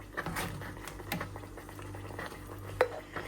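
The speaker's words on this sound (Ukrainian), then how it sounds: "І зараз я його відправляю до баночки." Thick Georgian tkemali plum sauce is ladled from a pot into a jar, giving soft scraping and clinks of a spoon against metal and glass, with one sharper clink near the end.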